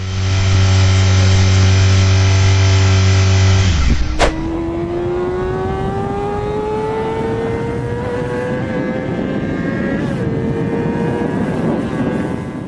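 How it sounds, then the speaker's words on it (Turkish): A Kawasaki ZXR 250R Ninja motorcycle engine held at a loud, steady high drone, then shifting abruptly into a shrill, climbing scream as it revs toward 20,000 rpm, with no voices. "Kawasaki ZXR 250R Ninja 20 bin devir çeviriyormuş."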